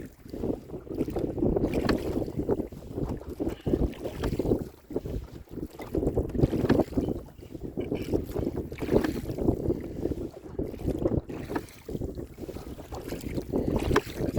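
Strong wind and choppy water buffet a small boat on Lake Sonoma's Dry Creek Arm, a steady loud rush of wind noise and slapping chop that surges and dips continuously, with no voices.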